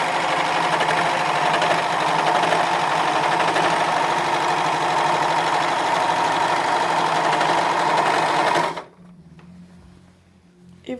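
A Pfaff e.element overlocker runs at steady speed with its cutter trimming fabric, a dense, even mechanical whir that stops abruptly near the end, leaving faint room noise.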